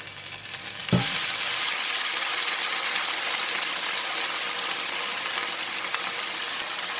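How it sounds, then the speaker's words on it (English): Watercress stir-frying in a hot pan with leftover garlic, a sharp thump as the greens drop in followed by a loud, steady broadband sizzle that holds close and unbroken throughout, with no talking. "Still have a bit of the garlic in the pan, and I'm going to put in the watercress."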